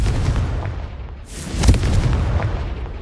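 Confringo explosive spell from Hogwarts Legacy bursting in a single heavy boom with a rumbling tail, loud and close against constant game ambience.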